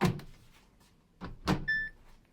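The door of a Samsung Grande AI washing machine is pushed shut: a few muffled thumps and a latch click close by, followed by a short electronic beep.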